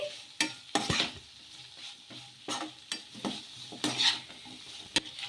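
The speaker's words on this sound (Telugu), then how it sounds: "ఇలా కొద్దిసేపు కలుపుతూనే ఉండాలి" Wheat flour noodles with coriander are stirred in a pan, with repeated scraping strokes against a soft sizzling background at a fairly quiet, close level.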